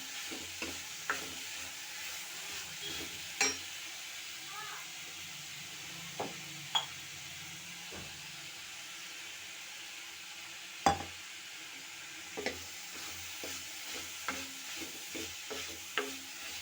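Ingredients for drumstick leaf adai, with chilli powder added, sautéing in a pan under a soft steady sizzle, broken by scattered spatula scrapes and light clinks at uneven intervals.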